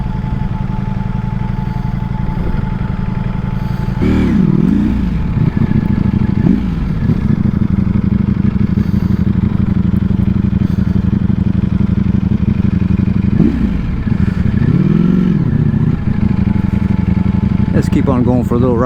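A brand-new Ducati Panigale rides through downtown city streets, its engine a loud, steady close drone with a couple of rising and falling rev swells, while someone talks over it for much of the ride.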